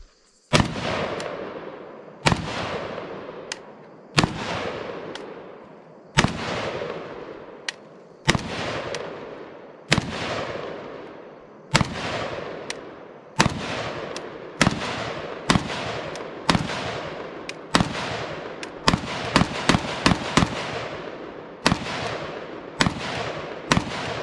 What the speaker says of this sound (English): shooting an AK-47